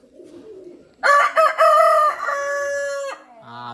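A loud, close rooster crow, one long drawn-out cock-a-doodle-doo, with faint bird sounds before and after.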